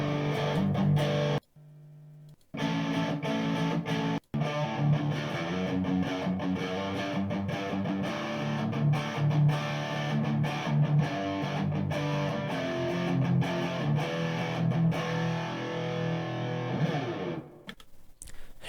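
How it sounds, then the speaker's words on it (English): Distorted electric guitar, a Tanglewood, played through a Bugera 6262 amp into a Marshall 1960AV cabinet, riffing loud and steady for most of the stretch with two brief dropouts and a stop near the end. "So that's the Bugera 6262 with the Marshall 1960 AV setup."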